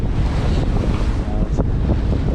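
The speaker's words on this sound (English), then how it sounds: "wind picked up right around sunset, getting a little water all over the deck" Strong sunset wind roars across an open microphone on a sailboat deck while waves wash and slosh steadily around the boat, loud and continuous throughout.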